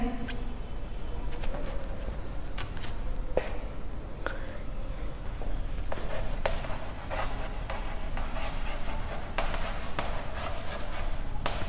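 A pen writes out the given statement of a Class 10 geometry proof about a quadrilateral ABCD circumscribing a circle. The scratching is soft and steady, with occasional light taps, close by and faint throughout.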